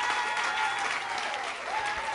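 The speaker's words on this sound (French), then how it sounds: "Je vais entendre des applaudissements juste pour savoir si vous êtes ouverts au nouveau." A church congregation breaks into applause, dense and even clapping from a crowd, with brief vocal whoops riding over it throughout.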